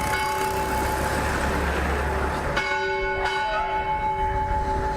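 The church bell at St. Anthony's Shrine, Kochchikade, rings out with sustained, ringing tones and a couple of fresh strikes that layer over the lingering hum.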